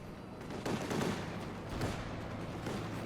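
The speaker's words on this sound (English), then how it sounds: "And here comes the strafe." Air strafe gunfire in the WWII strategy game Company of Heroes 2 on the Mill Road map: a dense fusillade of rapid shots with a couple of louder bursts near the start and middle, steady and fairly loud throughout.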